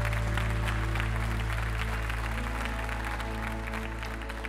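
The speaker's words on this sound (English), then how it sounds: "give a round of applause to those who made that decision today" Congregation applause during a church service, continuous clapping over a steady low hum from the room's sound system, with no one speaking.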